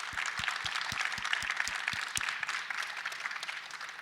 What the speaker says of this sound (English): I want to just invite one round of applause here for our three finalist teams